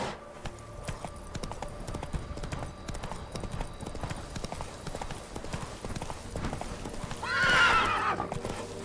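A horse galloping in The Witcher 3 video game, rapid continuous hoofbeats throughout, then a loud shrill neigh near the end; no talking.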